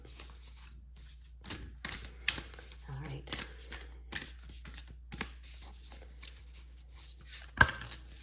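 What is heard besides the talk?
shuffling a deck of tarot cards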